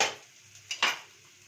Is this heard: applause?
no